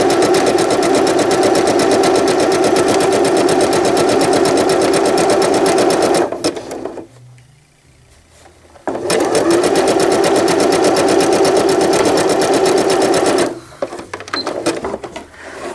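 A sewing machine stitching knit fabric for a newborn gown runs loud and steady with a fast mechanical whir, pauses briefly near the middle, then resumes before stopping again near the end.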